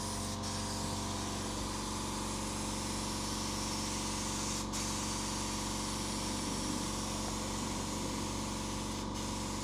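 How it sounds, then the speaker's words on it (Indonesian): A steady, continuous hiss of a spray gun applying wood toner without pause, loud and close, with a low mechanical hum underneath. "Oke, cara nyemprotnya seperti itu. Jarak semprot sekitar 30 cm guys."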